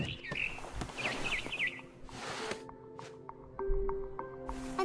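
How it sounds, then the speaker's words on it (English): Barn swallow chirps in the game What Remains of Edith Finch, with brief high twittering calls near the start among game ambience, soft thuds and tonal music-like hums. "Then I heard chirping outside my window. It was a barn swallow going back to her nest."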